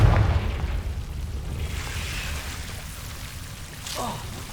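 Confringo spell blast in Hogwarts Legacy: a deep boom opens the clip, followed by a rumbling decay and a softer burst toward the end, with no talking.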